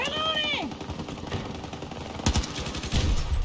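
Gunfire in the shooter Battlefield 2042: rapid close machine-gun bursts cutting in over game sounds, with someone talking over the action.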